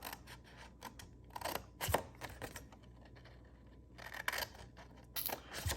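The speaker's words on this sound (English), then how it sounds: "We're going to cut on those score lines." Scissors snipping through paper along scored lines while making a quick basket, a few crisp cuts in bursts with short pauses between, close and fairly quiet.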